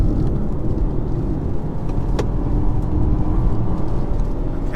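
A 2022 BMW 118i accelerates hard, its engine and road noise a steady, loud rumble heard from inside the cabin without talking.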